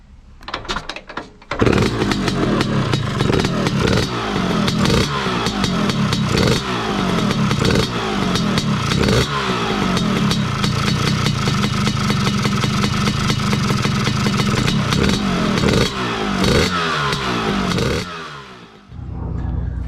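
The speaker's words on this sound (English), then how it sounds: "That's revving out nice and cleanly, so it looks like that's cured the problem." A two-stroke motorcycle engine fitted with new VForce4 reeds kicks into life after a few brief sputters, then runs and revs loudly with rising and falling blips and a rapid clattering exhaust note before dying away at the end.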